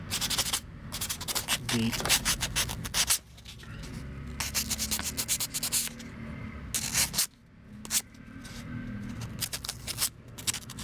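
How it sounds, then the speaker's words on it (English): Quick back-and-forth strokes of 600-grit sandpaper rub on a small die-cast Tomica Nissan Fairlady Z model car, close and scratchy in rhythmic bursts with short pauses, with a voice briefly heard. "So I'm going to use 600 to sand it."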